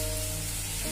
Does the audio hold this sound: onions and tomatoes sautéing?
yes